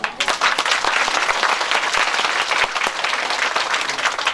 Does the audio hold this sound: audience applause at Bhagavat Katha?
yes